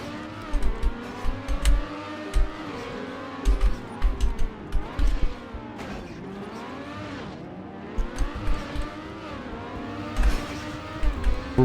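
Race car in the video game Trackmania speeding across a pyramids track, its engine whining up and down through repeated revs and shifts, loud and close throughout, with occasional thuds and bumps.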